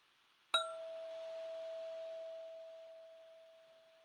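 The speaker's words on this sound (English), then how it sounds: "pay attention to the sound of the bell from the beginning to the middle to the end of the sound." A single bell struck once, ringing with a clear sustained tone that slowly fades away over several seconds in a quiet room.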